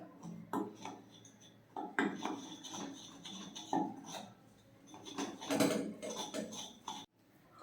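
Chicken leg pieces being mixed with a little oil in a bowl, the spoon or hand clattering and knocking against the sides in uneven bursts, close and soft, with no talking.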